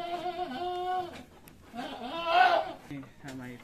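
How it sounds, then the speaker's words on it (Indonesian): A pregnant goat among livestock bleats loudly and repeatedly at close range, with wavering drawn-out cries and another goat answering briefly. "Ini ada kambing yang hamil."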